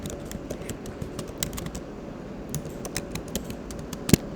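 Quick keystrokes on a computer keyboard tap out a username, a close, irregular patter of light clicks over faint room hiss, ending with one sharper knock.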